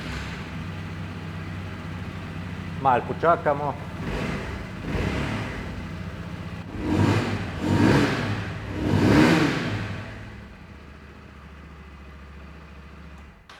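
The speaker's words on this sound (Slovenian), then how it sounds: "večina se vas zmeraj želi slišati zvok motorja, pa bomo še prižgali" A Rieju Aventura 125 motorcycle cranks on its electric starter, catches and idles, then the small single-cylinder engine is revved in three rising blips close by; a voice speaks briefly before the start.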